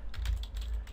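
Quick run of keystrokes on a computer keyboard as a web address is entered into a browser's address bar, a brief close burst of clicks with no talking.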